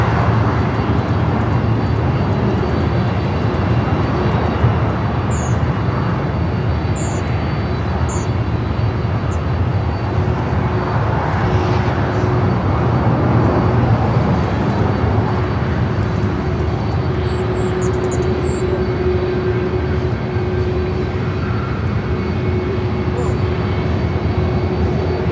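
Airbus A330neo taxiing at Los Angeles LAX airport, a steady broad engine roar held level throughout, with faint high chirps over it and a voice talking now and then.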